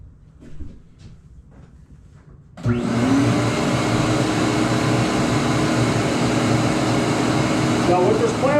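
A shop vac with a filter fitted switches on after a few quiet seconds and then runs with a loud, steady roaring whine and airflow rush, while a person talks under the motor.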